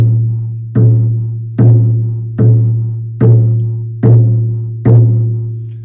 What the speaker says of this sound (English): this one here is another buffalo drum on maple